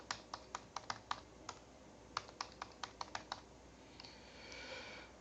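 Keys clack sharply on a computer keyboard as a new password is typed, a quick run of about seven taps, a pause, then eight more, followed by a faint rustle in a quiet room.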